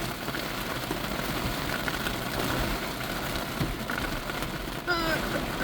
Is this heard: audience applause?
no